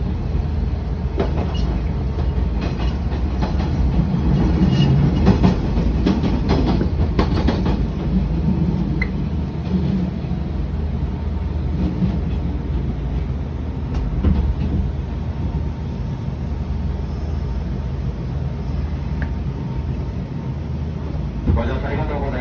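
Sanyo Electric Railway train at a station during a vehicle swap after a breakdown, giving a steady rumble with faint clatter throughout, under continuous platform and onboard announcements.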